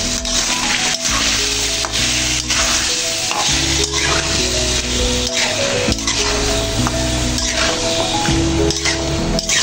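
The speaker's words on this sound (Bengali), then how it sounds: "এই যে এখানে আমি আলুটা আর ডাটাটা হচ্ছে একটু ভালো করে কষিয়ে নেব।" Potatoes and vegetable stalks sizzle steadily in a pan of spiced masala, cooked for a rohu fish curry. The frying hiss is loud and continuous, with occasional clinks of a utensil against the pan.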